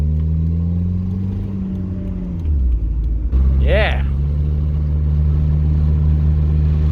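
A car with freshly replaced brakes rolls along with a steady engine and road rumble, then slows to a stop with a brief whine, with a short spoken word near the end.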